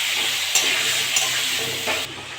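Potatoes frying in hot oil, a dense continuous sizzle close by with a few soft stirring knocks at regular intervals, no voices.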